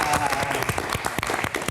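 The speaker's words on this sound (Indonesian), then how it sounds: "Tepuk tangan untuk Otong." A studio audience claps through a talk-show segment, a dense burst of applause with sharp individual claps spread across the whole moment, moderately loud and close.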